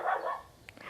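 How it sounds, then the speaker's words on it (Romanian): Pet dog barking indoors, one or two short, faint barks a short way off, brief and unaccompanied. "Scuze dacă se aude un câine."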